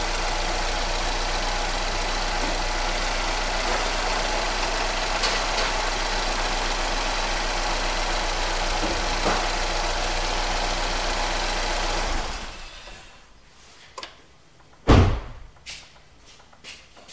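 A Chevrolet Equinox engine idles steadily up close for about twelve seconds, then shuts off, leaving near silence broken by a few short clicks and knocks.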